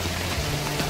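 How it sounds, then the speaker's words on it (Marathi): Heavy monsoon rain pours over Mumbai near Jogeshwari station as a journey to Konkan begins, heard as a dense, steady hiss of rainfall with no voices. "भयंकर पाऊस"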